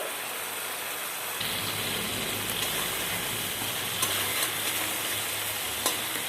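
Spice paste of ground mustard, ginger, turmeric and chili powder fries in a pan for a fish curry, giving a steady close sizzle that grows louder after the first second, with a few scraping stirs and no talking.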